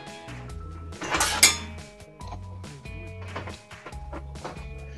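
Coffee beans rattle and clink inside an Oria 30g manual coffee mill set to fine, with hard scattered taps and a brief louder burst of clattering.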